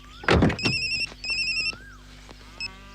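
A telephone rings in a Kannada action film scene with short bursts of a bright electronic ringtone, close and fairly soft, after a dull thump at the start, with no voices.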